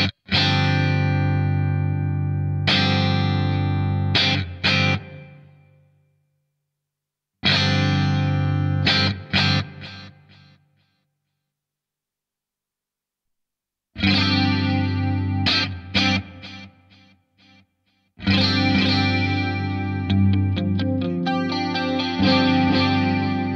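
Electric guitar run through BOSS reverb, delay and chorus pedals, loud strummed chords and picked notes in four separate phrases with silent gaps between them, shimmering and swirling tails, no voices.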